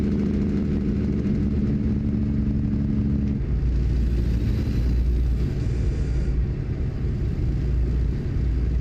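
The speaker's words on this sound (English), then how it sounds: "This is probably one of the few trucks in this game where the Jake brake doesn't sound awful." Kenworth W900 truck in a driving video game, its engine giving a steady loud low rumble that shifts in pitch as it slows, with Jake brake drone, heard alone without talk.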